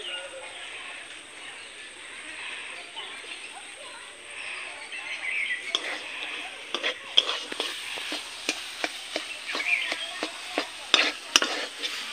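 A vegetarian fish-style curry is stirred with oil in a pan in a village kitchen. A soft background hiss builds into rhythmic scraping clicks of the spoon against the pan in the second half, close and fairly distinct.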